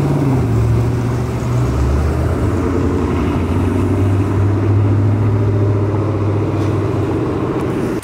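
A modified T350 leaving a car meet, its engine producing a loud, steady low rumble close by that holds through the whole stretch and ends with a brief thump.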